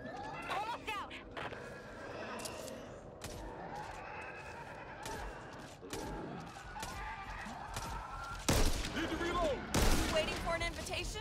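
Two loud, booming explosions burst late in a chaotic Back 4 Blood co-op match on Nightmare difficulty, following scattered gunfire and thuds as players talk throughout.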